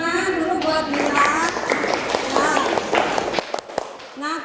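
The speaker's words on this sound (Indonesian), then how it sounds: "tepuk tangan dulu buat Bila" Students in an Indonesian classroom clap briefly with a few sharp hand claps, while a teacher speaks over and between them.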